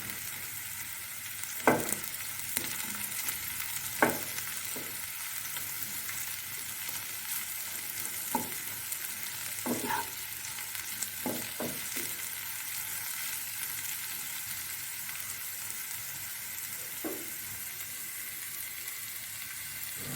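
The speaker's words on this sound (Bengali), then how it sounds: "এবারে মিনিট 5 মতন আমি সবজিগুলোকে একটু নাড়াচাড়া করে ভেজে নিলাম।" Capsicum and green chilies stir-fry in a pan, giving a soft, steady sizzle at low volume, broken by occasional sharp clinks and scrapes of a spatula over about twenty seconds.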